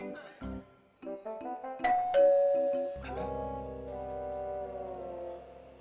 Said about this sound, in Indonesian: Kayaknya gue denger bel tuh.